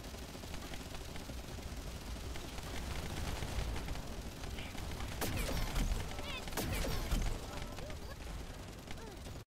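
A Tamer machine gun in a video game fires in a continuous rattling stream amid dense battle noise, with a few sharper loud cracks near the middle and a voice talking over parts of it.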